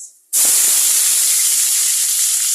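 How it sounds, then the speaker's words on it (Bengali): Dried chilies and kalonji seeds hit hot oil with a sudden loud sizzle that starts abruptly and holds as a steady, close hiss, fading slightly toward the end. "শুকনো মরিচ তেলে দিয়ে দিলাম, কালি জিরা দিলাম"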